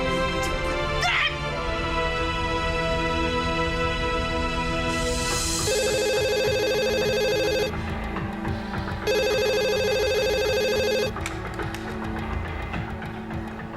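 A telephone rings in two long electronic ring bursts with a pause between them, loud and close, over a steady background of music and ambience.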